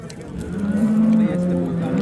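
A cow moos loudly and close by, one long drawn-out low call that rises and then holds.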